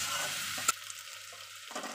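A pumpkin, potato and chickpea curry sautés with spices in a pan, with a soft sizzle and one sharp scrape of a spoon partway through, fairly quiet.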